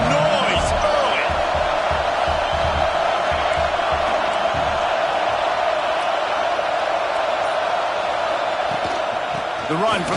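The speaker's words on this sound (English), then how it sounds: "This crowd bringing the energy and noise early." A loud football stadium crowd at an Oregon at Iowa game roars continuously, a dense sustained wall of cheering and noise that holds steady throughout with an announcer-like voice faintly woven in.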